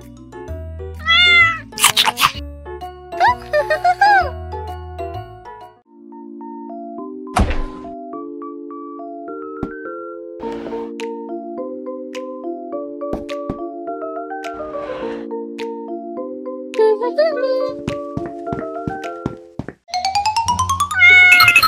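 A cat meows several times, loud and close, mixed with thunks, a ding-dong chime and tonal music, in a kitchen where a miniature rainbow chocolate cake is being made and decorated.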